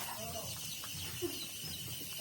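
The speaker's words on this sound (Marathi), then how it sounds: "हे बघा कोंबड्या" Faint clucking from chickens on a village farm, with a brief cluck standing out against a low, steady background hum.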